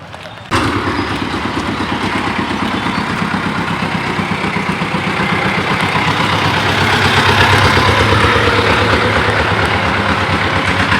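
A bus engine idles steadily at a bus terminal, a continuous low rumble that starts abruptly and stays loud and close for the whole stretch.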